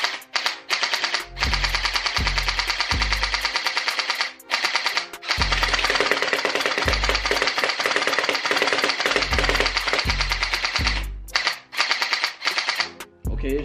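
A Glock-style gel blaster fitted with an extended magazine fires in rapid sustained bursts, loud mechanical rattling runs broken by short pauses, with no talk over the shots.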